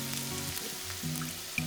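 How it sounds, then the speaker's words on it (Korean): Garlic and chili peppers stir-fry in a little oil over medium-low heat, a faint, soft sizzle with a few light scrapes under a low steady hum. "팬에 기름 살짝 두르고 중약불로 달궈지면 마늘, 고추 넣고 볶아줬다"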